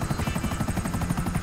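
Helicopter in the video game GTA V Online, a steady pulsing rotor chop with a low droning engine, loud and continuous throughout without any talk.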